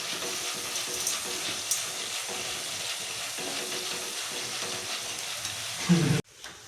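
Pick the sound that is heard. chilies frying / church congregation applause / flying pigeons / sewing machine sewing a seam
chilies frying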